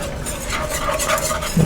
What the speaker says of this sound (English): You want to keep stirring because you sure don't want to burn it.